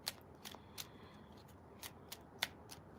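A tarot deck being shuffled, with soft crisp riffles and sharp card slaps at irregular moments, faint and close, with no talk over it.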